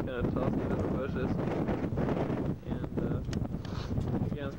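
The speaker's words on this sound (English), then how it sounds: "It's pretty windy up here, bear with us." Strong wind buffets the microphone at the summit of El Capitan in Yosemite, roaring in loud, uneven gusts while someone talks over it.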